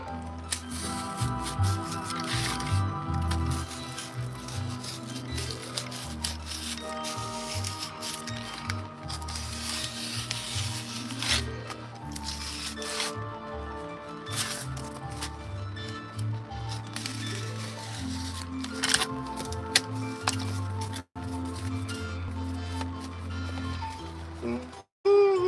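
Scissors cutting out a cardboard craft piece, a steady run of close crisp snips and rustling paper-board noise over a background of music.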